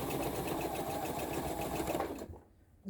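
A sewing machine runs a steady, rapid stitching rhythm along a quarter-inch quilt seam for a crazy quilt block, close and continuous, then stops abruptly near the end.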